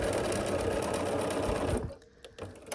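A sewing machine runs steadily for nearly two seconds, stitching quilt block squares together for a Friendship Star block, then stops, leaving faint handling noises close by.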